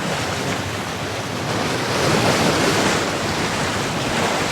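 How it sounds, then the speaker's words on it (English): Ocean swell waves breaking against the side of an iceberg while sailing in Greenland, a steady loud broadband wash of surf with wind buffeting, swelling slightly midway, no voices. "You can see the waves hitting off on the one side."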